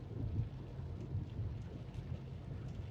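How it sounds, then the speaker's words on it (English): Steady rain drumming on the roof and glass of a car during a foggy drive along Highway 401, a dense continuous wash with low rumble throughout and no voices. "It's raining out."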